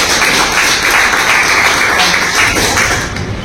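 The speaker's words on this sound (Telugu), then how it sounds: "ఒకసారి సార్ వాళ్ళ గ్రేట్ క్లాప్స్." An audience at a business plan presentation bursts into dense, loud clapping that holds steady throughout the few seconds with no pause, close and full, easing only slightly at the very end.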